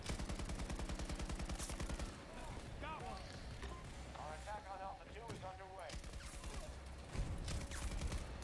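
Rapid bursts of video game gunfire crackle in the opening seconds, then give way to people talking with scattered shots and game effects, with a final loud burst near the end.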